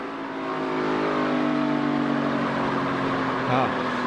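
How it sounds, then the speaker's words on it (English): NASCAR race car on track during a slide, engine droning at high revs with a steady buzzing tone and a brief rougher flutter near the end suggesting rear tire chatter, loud and continuous. "that's almost the chatter when you start to go into a slide and that construction of the tire starts chattering"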